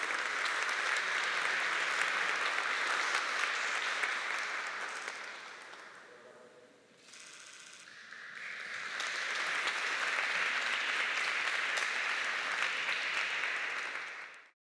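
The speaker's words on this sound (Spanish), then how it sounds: "Un voto de aplausos, por favor." A roomful of people clap at a formal cultural honours ceremony in a government palace, a sustained broad wash of applause that dips briefly in the middle, swells again, then stops.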